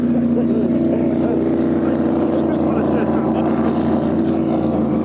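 An offshore racing powerboat's engine, running rough at about half throttle, drones steadily and unevenly, loud and close, with a low rumbling hum throughout and no pauses.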